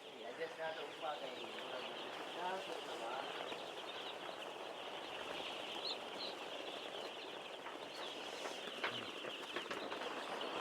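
Chickens cluck and call near a brooder heater, a steady murmur of fowl with occasional wing flaps, close and continuous, with a person talking over the flock.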